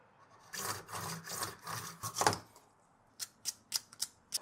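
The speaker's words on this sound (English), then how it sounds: "It's remarkably like PVC pipe, so a hacksaw cuts it just fine." Hacksaw strokes cutting through plastic fork spacer material resembling PVC pipe during a 1991 KDX200 fork rebuild, a run of rasping back-and-forth strokes followed by a few short, sharper scrapes, close and moderately loud.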